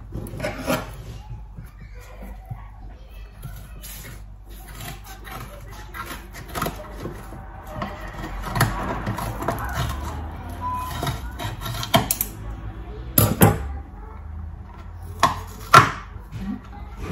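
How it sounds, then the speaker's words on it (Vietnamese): A knife cuts through food on a cutting board while cake decorating at home, with quiet scraping and rubbing and a few sharp chops near the end, against a low hum. "Mình cắt."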